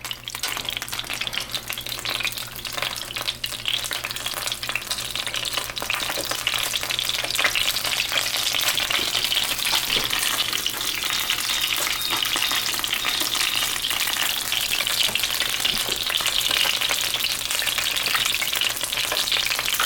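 Eggs fry in a pan with a constant, close crackling sizzle that holds steady and slightly intensifies, with no talking over it.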